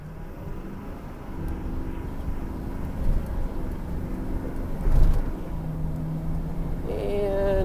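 A 2005 GMC diesel pickup truck cruising on the road, steady low engine drone and road rumble throughout, with a brief louder swell midway and a faint tonal whine rising near the end.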